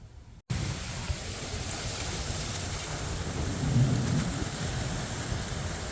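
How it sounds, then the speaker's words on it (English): An incoming rainstorm with thunder: steady rain hissing on surfaces under a deep rolling rumble that swells briefly, close and continuous with no voices. "A rainstorm is coming in."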